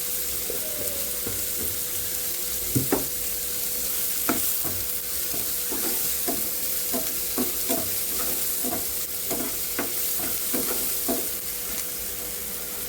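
Tomatoes roasting with salt in a pan on a gas stove, a steady close sizzle with a run of regular spatula scrapes and taps through the middle, and a faint tonal hum underneath, no talking.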